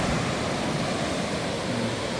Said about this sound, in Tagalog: Yung pagaspas ng alon, di ba?